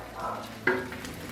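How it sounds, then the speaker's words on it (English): Bologna slices sizzle quietly in a pan with a soft, steady crackle, and a brief scrape of a utensil partway through. "They're starting to sizzle a little bit."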